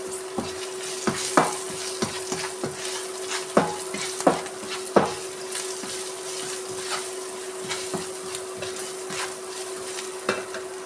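A spoon stirs and scrapes through a sizzling pan of sautéing ingredients seasoned with salt and chili powder for an elephant foot yam stir-fry, giving irregular clinks and scrapes over a steady, close sizzle with no voices.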